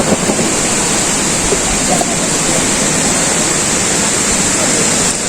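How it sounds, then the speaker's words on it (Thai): Khao Khram waterfall in Phatthalung roars as a steady, loud and continuous rush of falling water, heard nearby with no talking. "เพื่อนๆครับบรรยากาศของน้ำตก"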